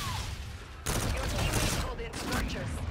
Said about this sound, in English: Oh no, I got sniped.